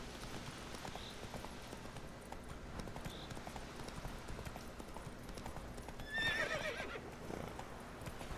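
Horse from The Witcher 3 clip-clopping steadily on hooves throughout, with a loud whinny near the end over constant game ambience.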